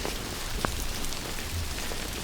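Heavy rain pours in the Australian bush in a dense, steady hiss, with a few sharper drops and patters standing out close by and no voices.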